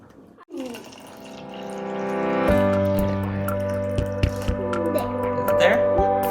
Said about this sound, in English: We're going to add 1 cup of distilled water into the measuring cup.